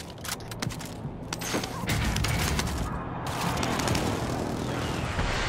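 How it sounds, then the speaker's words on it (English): Precision airstrike explosions rumble continuously in Call of Duty: Modern Warfare, dense overlapping blasts and crackling debris forming a loud, sustained barrage with no pauses. "Enemy precision airstrike."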